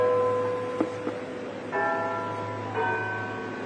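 Church bells ring out with clear, sustained tones, and new strikes come in every second or so over a steady low background.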